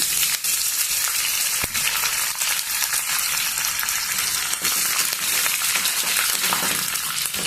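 Mustard seeds, cumin and curry leaves fry in hot oil, giving a dense, steady crackling sizzle with sharp pops throughout, close and fairly loud.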